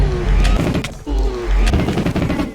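End crystals in Minecraft are shot and blow up as a string of loud, heavy booms in quick succession, each one a deep blast with a rumbling tail, close and dominant.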